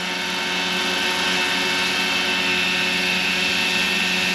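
A Roban 600-size scale RC Hughes MD500 helicopter runs with its rotor spinning at 1400 RPM, a loud, even, continuous whine and buzz from close by with no talk.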